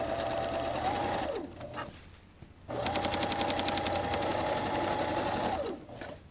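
A sewing machine stay-stitches a jacket's upper collar in two loud, steady runs of rapid needle clatter, separated by a short pause and winding down at each end.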